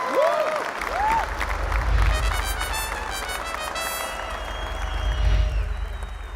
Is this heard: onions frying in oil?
no